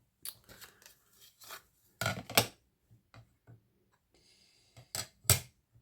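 Scissors cutting off a piece of craft material: a series of crisp, close snips in irregular bursts, separated by short quiet gaps.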